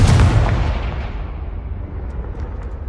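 A Confringo blasting spell from Hogwarts Legacy bursts in a single loud, booming explosion with a deep low rumble, then decays into a long fading roar across the rest of the moment.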